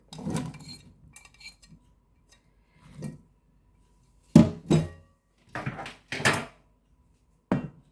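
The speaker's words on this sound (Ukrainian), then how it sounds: "Висипатиму картоплю." Potatoes are tipped into a multicooker-pressure cooker pot already holding frozen smoked ribs and washed peas, landing in several separate clattering bursts of hard knocks and rattles against the pot, with quiet pauses between them.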